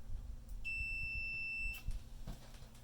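A multimeter sounds a single steady high-pitched continuity beep, just over a second long, while testing a BMS activator on scooter batteries, with a faint low background hum and no talk.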